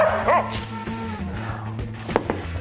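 A trained termite-sniffing dog gives a few short barks and whimpering yips. The close, brief calls sound over a low background music bed.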